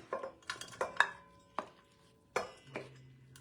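Ingredients for a broccoli cranberry salad are dropped into a bowl, making a series of light, close knocks and clinks at irregular intervals, with short resonant ringing after some hits and quiet pauses between them.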